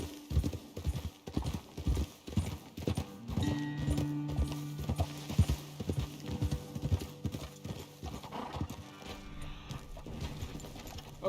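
Horses clip-clop steadily in Red Dead Redemption 2, a close, loud, rhythmic run of hoofbeats that pauses briefly and then resumes, with game ambience underneath.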